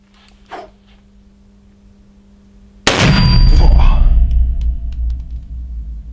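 A Smith & Wesson 460 revolver fires one very loud, close shot at a 10-metre range, followed by a long booming rumble that slowly decays.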